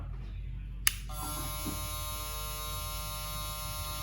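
A SUPER V electric hair clipper switches on after a click and runs with a steady, fairly quiet electric buzz and whine, heard close and alone without talk.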